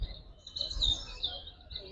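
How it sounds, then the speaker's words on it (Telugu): Birds chirp and call softly at a distance in a green park along a jungle trail in Noida, high twittering notes running steadily over a faint low background rumble. "ఇక్కడ నేచురల్ గానే బర్డ్స్ అరుస్తున్నాయి అన్నమాట"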